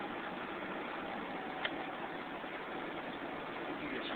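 A 2001 Toyota Highlander V6 engine running while driving in cold weather, heard as a steady broadband drone with road and wind rumble, continuous and moderately quiet inside the cabin.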